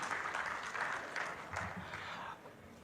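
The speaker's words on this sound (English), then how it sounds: "Please round of applause for Engineer Yusuf." An audience applauds a panelist at a Nigerian electricity power market forum, with steady crowd clapping throughout that eases off near the end and a few voices mixed in.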